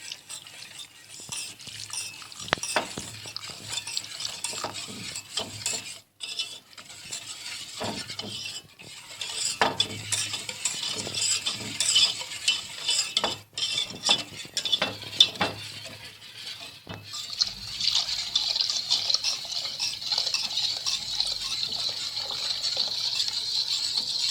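Milk, sugar and banana pudding mix are stirred together in a pot for a cake cream, producing steady sloshing, scraping swirls with occasional utensil clinks and no talking.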